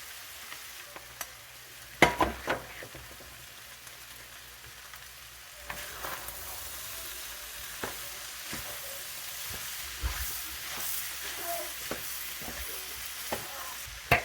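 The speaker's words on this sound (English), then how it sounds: "I think this is done enough that I can add the onions back to it, the pan." Onions frying in a pan while a gluten-free lasagna is prepared, with a steady close sizzle and several sharp clatters and stirring scrapes scattered through, no talking.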